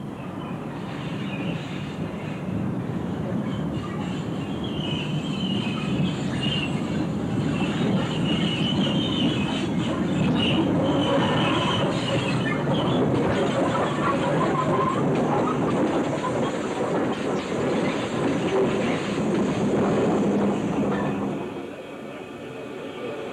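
Steam locomotive Mallard hauling a rail tour train in the West Country, a steady rumbling roll with clattering wheels and carriages passing close by for most of the stretch, easing off near the end.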